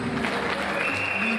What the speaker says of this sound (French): si vous voulez bien les acclamer et les applaudir